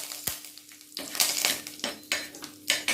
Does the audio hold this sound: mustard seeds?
yes